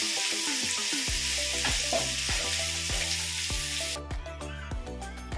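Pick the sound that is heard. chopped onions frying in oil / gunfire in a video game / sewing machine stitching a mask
chopped onions frying in oil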